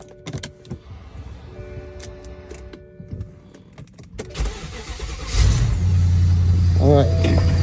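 A BMW X5 E70 that has sat unused for a while, after a water pump replacement, cranks and fires up into a loud, steady idle, preceded by light clicks and handling noises.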